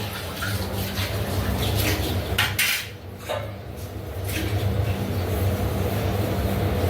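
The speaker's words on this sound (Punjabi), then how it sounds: "ਭਾਂਡੇ ਮਾਂਜੇ ਜਾ ਰਹੇ ਆ ਸਵੇਰੇ ਸਵੇਰੇ ਉੱਠ ਕੇ" Steady clatter of dishes and cutlery being scrubbed and rinsed under running water, continuous and close, with a brief lull midway.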